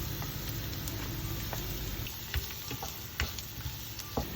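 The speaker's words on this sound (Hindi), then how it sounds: "लहसुन और अदरक थोड़ा सा पक चुका है" Chopped garlic and ginger fry in a pan with a steady close sizzle, broken by occasional crackles and stirring scrapes, at a moderate level with no speech.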